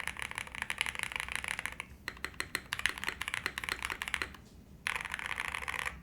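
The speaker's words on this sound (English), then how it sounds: "it's going to sound foamy with a brass plate and thinner keycaps" Fast typing on a Zoom75 mechanical keyboard with a brass plate and thin keycaps: dense, close, even clacks in quick runs, briefly pausing twice, with no talk.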